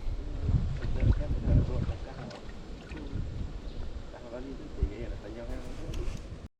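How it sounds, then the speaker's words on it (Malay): Strong wind buffets a fishing boat on a casting trip for siakap at Kuala Selinsing, a loud low roar of gusts rising and falling against the microphone while people talk nearby. "Aduh, angin kuat tu."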